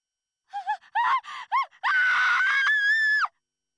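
A shrill, broken scream in the video game Code Realize, several short wavering cries followed by one long sustained wail, heard alone against silence.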